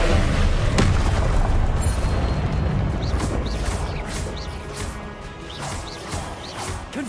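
Confringo fire-blast spell explosions in Hogwarts Legacy, a loud booming blast up front followed by a run of repeated crashing impacts that gradually fade.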